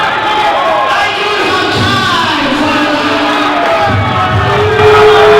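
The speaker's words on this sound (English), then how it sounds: "Listen to this crowd. They want it. They want 5 more." A wrestling-event crowd roars and shouts, with whoops and bellows rising over a dense, loud wall of voices that swells again near the end, with occasional thuds beneath.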